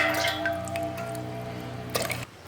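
Water pours and splashes steadily into a metal pot for about two seconds, a dripping, trickling stream that stops abruptly near the end.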